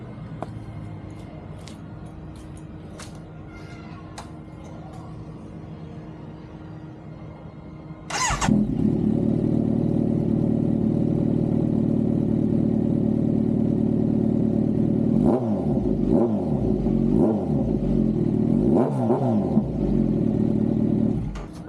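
A Kawasaki Z900 motorcycle with a replica Austin Racing exhaust starts up partway through, settles into a loud, close idle, then gives several sharp throttle revs in quick bursts, with no talking.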